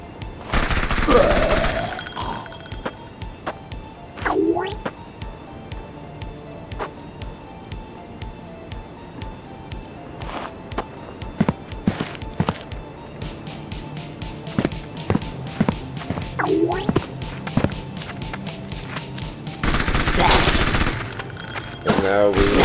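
Gunfire in the video game Pandemic Shooter: sharp shots and bursts scattered irregularly across a quieter game backdrop, with a couple of louder, denser volleys near the start and end.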